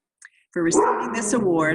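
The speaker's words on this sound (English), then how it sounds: "Excuse my dog" A pet dog barks close to the microphone with a couple of sharp yips and then a sustained whining bark, while a person speaks at an awards ceremony.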